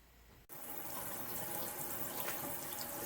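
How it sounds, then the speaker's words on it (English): A small scrap of freshly cut homemade soap held under a running tap, the water pouring in a steady, close splashing stream after a brief quiet start. "So I'm going to take this little scrap piece and run it under the water"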